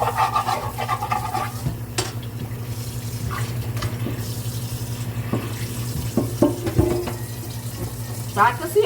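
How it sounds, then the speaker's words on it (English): Water runs from a kitchen tap into a cooking pot as a steady low hiss, with occasional clinks of dishes and a low appliance hum underneath, and no talk over it. "I'm just gonna put water in it and set it over there"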